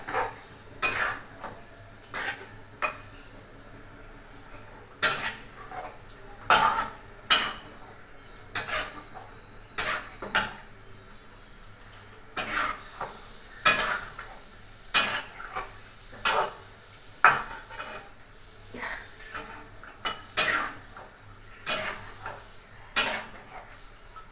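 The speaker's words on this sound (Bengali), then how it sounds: "এবার ভালোভাবে কষাবো, ভালোভাবে কষাবো।" Chicken curry being stirred and sautéed in a pan, with sharp metallic scrapes and clanks of a spoon against the pan repeating roughly every second, loud and close with no talk.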